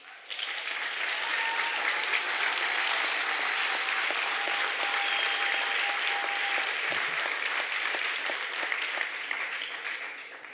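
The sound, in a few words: hearty applause for graduates at a graduation ceremony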